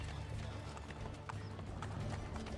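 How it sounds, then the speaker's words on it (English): A horse gallops in Assassin's Creed Brotherhood, its hooves drumming in a quick, faint clip-clop rhythm over a busy game backdrop. "As Machiavelli just runs people over with his horse."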